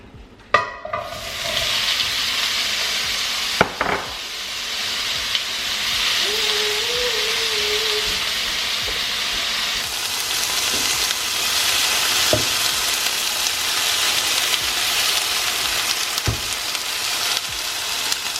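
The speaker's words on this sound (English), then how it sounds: "coat the bottom of the pan with olive oil and throw in the cherry tomatoes." Cherry tomatoes fry in olive oil in a heated new non-stick pan, giving a loud steady sizzle and hiss close up, with a few clinks and stirring sounds and no talk.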